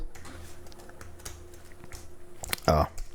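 Quick, light clicks of typing on a computer keyboard, scattered and soft, ending with a louder burst of sound.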